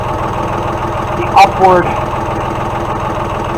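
A compact tractor engine idles in a low, steady rumble close by while someone speaks briefly over it.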